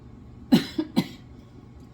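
A person gives two or three short, sharp coughs in quick succession, near and fairly loud, over a quiet background with no speech.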